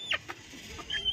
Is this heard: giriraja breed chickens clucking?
yes